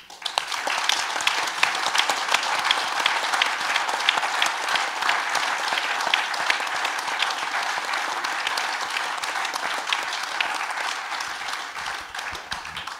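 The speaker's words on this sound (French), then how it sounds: "Et je voudrais qu'on les applaudisse" Sustained applause from a large crowd at a public debate forum, many hands clapping steadily and evenly for several seconds without letting up.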